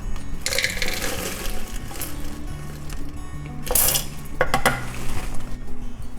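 Dried peas poured into cooking pots, a half cup into each, for a rocket stove cook-off: a rattling, clattering pour with metallic pot clinks, two brief louder bursts toward the end.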